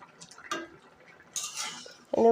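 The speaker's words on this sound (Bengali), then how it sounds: "তারপরে আরেকটু নাড়াচাড়া করে তারপরে কিন্তু নামিয়ে নেব তরকারিটা" A spoon stirs pabda fish curry in a metal pan, giving a few scattered scrapes and clinks with quiet gaps between them. A louder clatter comes at the end.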